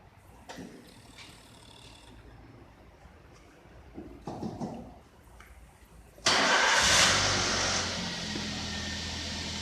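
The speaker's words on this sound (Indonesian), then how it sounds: "bisa kita lakukan untuk percobaan menghidupkan kendaraan" A car engine is cranked after its battery is reinstalled: a couple of short starter bursts, then it catches with a loud roar and settles into a steady close idle.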